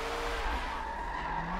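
A supercar drifts with a long tire skid in the video game Forza 7, the squeal running continuously over a low engine drone, steady and fairly loud throughout.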